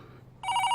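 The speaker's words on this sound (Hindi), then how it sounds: "ये लो घंटी बजी।" A telephone starts ringing abruptly after a quiet moment, a loud electronic ring tone close by.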